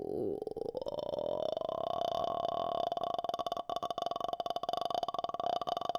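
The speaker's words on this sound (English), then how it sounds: "What you're going to do is make a sound like the movie The Grudge." A voice producing a creaky vocal fry exercise, a low, rattling, croaking sound like a horror-film ghost, held steadily for several seconds at moderate volume without words.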